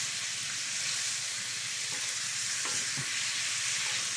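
Marinated chicken intestine and ginger sizzle steadily in a frying pan while being stirred, with a dense continuous crackle and a few soft scraping knocks from the stirring.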